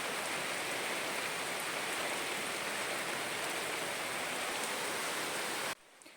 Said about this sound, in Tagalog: Lumakas na nga ang ulan, pero buti na lang walang kasamang hangin